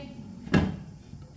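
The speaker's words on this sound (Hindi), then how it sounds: "5 मिनट के लिए ढक्कन लगा देंगे।" A lid set onto a cooking pot of boiling macaroni on a medium flame gives a single brief clunk, close and moderately loud, then quiet.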